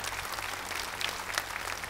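Audience applause for musicians at a televised Armenian gala show, steady dense clapping that fills the whole stretch with no voices on top.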